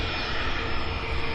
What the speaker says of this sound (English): Guys, I hear a plane.